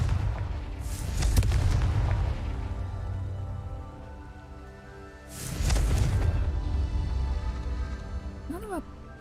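A Confringo fire spell blasts in the Hogwarts Legacy video game, with two booming explosions several seconds apart, each a loud broad burst fading into rumble, and a faint chirpy effect near the end.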